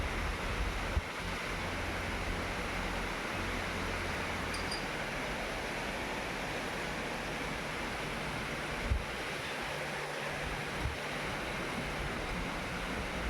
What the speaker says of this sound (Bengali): বাইরে তো বেশ বৃষ্টির আওয়াজ হচ্ছে